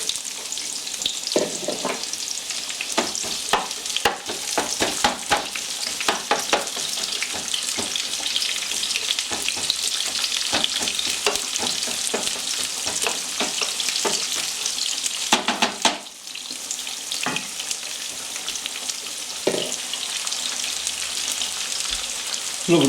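Onions fry in hot vegetable oil for a Spanish tortilla, a loud, steady close sizzle broken by crackles and stirring clicks, with a brief dip midway and no talk.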